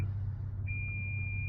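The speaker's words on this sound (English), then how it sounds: "The sensors on this vehicle is ridiculous. That's that beeping noise y'all hear." A car's parking sensor sounding one long continuous high-pitched beep inside the vehicle on a rainy morning, steady over a low engine and road rumble.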